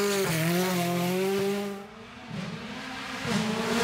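An Alpine race car climbs the hill at the Festival of Speed, its high engine note rising and falling through gear changes, loud and close before fading as it moves away, then picking up again.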